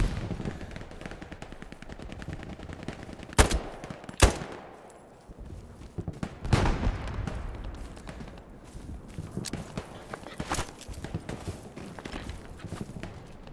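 Gunfire in the World War II shooter Hell Let Loose: two loud, close sharp shots stand out among sporadic distant cracks, rattling bursts and scuffing footsteps.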